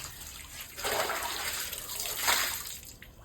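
Water splashes and gushes as goat intestines are rinsed and cleaned by hand, two louder pouring bursts over a quieter trickle, close by with no talking.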